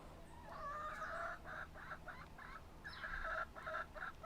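Chickens cluck in short repeated bursts, fairly faint and somewhat distant, against a low background hum.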